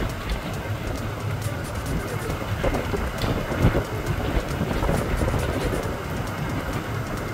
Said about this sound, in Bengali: বিভিন্ন জেলায় ইতিমধ্যেই শুরু হয়েছে বৃষ্টি, সঙ্গে রয়েছে ঝোড়ো হাওয়ার দাপটও